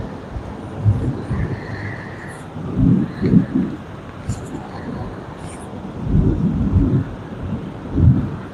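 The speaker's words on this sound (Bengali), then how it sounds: "পুরা ঢাকা শহরে বৃষ্টি হচ্ছে" Rain falling across Dhaka city with low rumbling thunder rolling in several swells, a steady wash of rain underneath, close and fairly loud.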